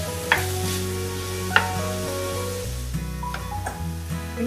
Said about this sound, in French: Laissez cuire les crevettes.